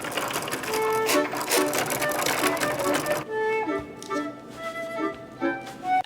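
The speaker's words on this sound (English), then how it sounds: "I'm gonna sew this together as a skirt right now" Sewing machine stitching vinyl fabric into a skirt, a quick rattling run of needle strokes that pauses and restarts in short bursts, fairly close and steady with no talking.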